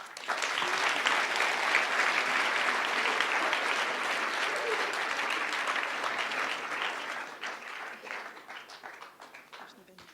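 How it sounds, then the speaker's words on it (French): An audience at a New Year's wishes ceremony breaks into strong applause that gradually thins into scattered claps, with some voices mixed in toward the end. "Et nous pouvons à nouveau vous applaudir."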